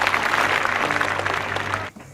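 Dense, steady applause from a crowd in the film Fateful Findings, a continuous wash of many hands that cuts off abruptly near the end.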